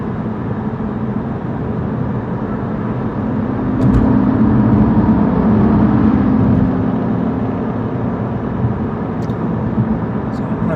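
Steady road traffic on a highway loop drones continuously from nearby, a broad rumbling wash of passing vehicles that swells slightly midway, with faint intermittent clicks above it.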